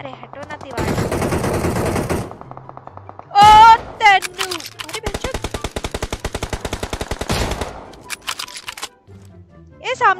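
Scar-L rifle sprayed in rapid bursts in the mobile shooter BGMI, loud rattling full-auto gunfire with a long rhythmic stream of shots in the middle, with excited talk from players throughout.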